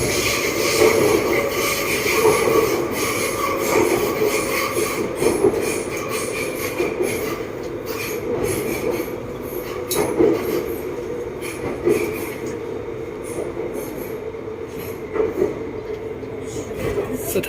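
A Bangkok MRT Blue Line metro train rolls along its rails between Lat Phrao and Bang Yi Khan, giving a continuous rumbling roar with wheel squeal and rising and falling surges, heard from inside the carriage.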